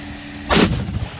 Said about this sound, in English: I'm going to shoot one at the target first.